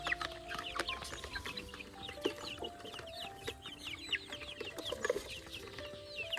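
Local chickens on a farm in Assam cluck busily while eating, with many overlapping short, close clucks and chirps in an irregular, lively stream and no one talking.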